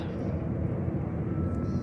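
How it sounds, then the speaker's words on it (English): Airplanes flying overhead produce a steady low broadband rumble that holds evenly across the short stretch, with no talk during it. "God, the planes are loud."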